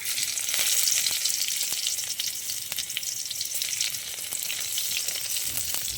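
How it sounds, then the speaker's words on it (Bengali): Chopped garlic with panch phoron and two dried red chillies sizzles steadily in hot oil, a dense continuous crackle with faint scattered pops, close and fairly loud with no voices. "রসুনটা একটু লাল লাল করে ভাজা ভাজা হয়ে গেলে"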